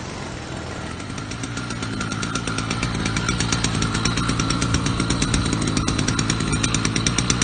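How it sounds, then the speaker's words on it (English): A 66cc two-stroke engine on a motorized bicycle runs close by, its loud, raspy drone pulsing rapidly and building slightly, with no voices. "66cc engine."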